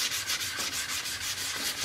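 Sandpaper at 400 grit rubs rhythmically over primed filler on a Camaro's front bumper fascia, a steady, close scratchy back-and-forth with even strokes and no voices.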